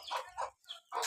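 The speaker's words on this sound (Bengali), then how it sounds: "এই মুরগির বাচ্চা ধরবো" A young chick clucking close by in a village, with four short, soft chirping calls in quick succession.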